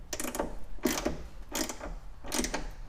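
Rusted bolt backing out of the trunk of a turbo Honda Accord, four bursts of ratcheting clicks and metallic grinding spaced about every 0.7 seconds, close and moderately loud with no talk over it.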